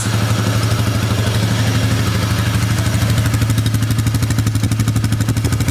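A Polaris Magnum ATV engine runs steadily close by, chugging at an even idle with a rattling, clattering rhythm and no talking.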